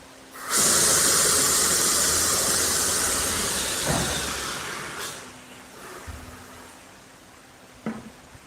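A pocket spring production line machine runs steadily with a loud broadband hiss and mechanical hum that sets in at once and holds, easing slightly later, with a few sharper knocks toward the end.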